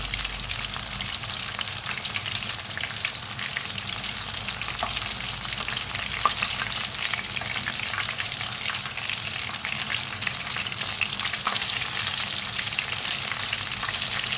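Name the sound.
finger fish pieces frying on medium flame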